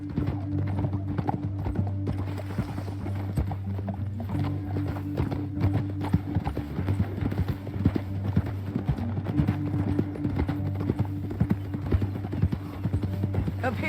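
In the video game Red Dead Redemption 2, hooves clip-clop steadily at a fast pace throughout, with occasional whinnies and a low droning background underneath; no voices.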